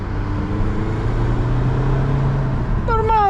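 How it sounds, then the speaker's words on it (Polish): A 2015 Audi A5 Sportback with a 2.0 TDI diesel engine drones steadily on a motorway, a loud, low engine hum with road and wind roar throughout. A voice briefly speaks at the end. "Normalny dźwięk silnika."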